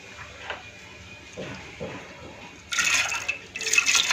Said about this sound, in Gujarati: આપણે કુકરમાં પાણી મૂકી દેવાનું છે અને બધી દાળને એમાં